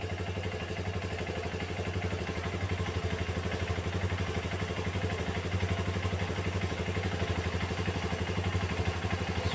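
A Honda CRF 150 motorcycle engine idles steadily close by, a continuous rhythmic low chug with mechanical clatter and no pauses.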